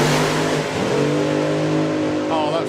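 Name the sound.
drag race car accelerating down the track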